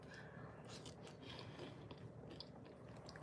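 Crunchy crust of a dump peach cobbler with peaches being chewed up close, with soft, faint, irregular crunching and mouth sounds over a few seconds.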